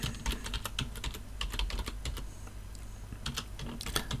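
Fingers type rapidly on a computer keyboard entering text into an Excel spreadsheet, a steady run of light, close key clicks with short pauses, no talking.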